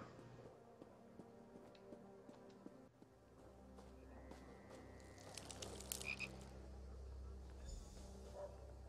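A frog croaks in a fantasy video game, a big dockside frog being fed, with repeated low croaks mixed among game music and chimes, fairly faint under a busy backdrop.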